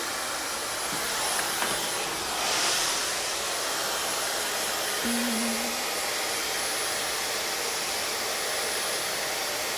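A hair dryer blows with a loud, steady whooshing roar that runs the whole time, its pitch shifting slightly as it moves.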